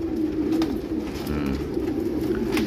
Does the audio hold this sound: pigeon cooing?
yes